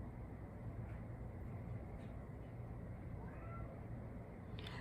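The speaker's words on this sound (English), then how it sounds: "I don't know if you can hear my cat." Faint, distant cat meows rise briefly above a constant low hum, once near the middle and again toward the end.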